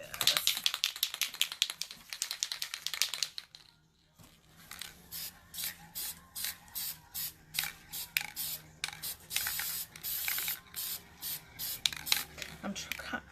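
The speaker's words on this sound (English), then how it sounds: "I'm trying to really spray over the whole bottom so it'll look even." Short bursts of aerosol spray paint hiss in a steady rhythm, close by, coating the bottom of a clipboard, after an opening stretch of longer continuous spraying and a brief pause.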